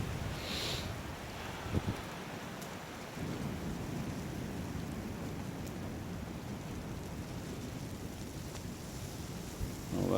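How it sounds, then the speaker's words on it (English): Wind gusting through trees at a winter survival camp, a steady broad roaring rush throughout with a brief stronger gust near the start and another swell at the end, no talk. "the wind is starting to get up. You can hear it come through the trees."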